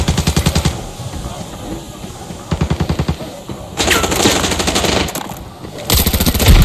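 A boss fires rapid automatic gunfire in the video game Arena Breakout, loud bursts of tightly spaced shots that start and stop repeatedly, with voices faintly under the noise.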